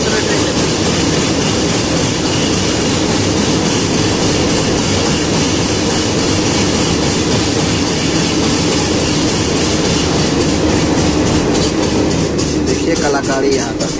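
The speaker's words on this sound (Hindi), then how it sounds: "बिल्कुल स्लो ट्रेन चल रही है।" The Garib Rath Express, a Bhagalpur to Anand Vihar train, rolls slowly along the rails through a new tunnel. A loud, continuous rumble with rhythmic clatter fills the whole stretch.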